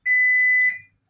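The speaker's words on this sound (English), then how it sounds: "my alarm's going off in here as well" A single shrill, steady electronic alarm tone, like a smoke detector, sounds loud and close in a room for under a second, then cuts off into silence.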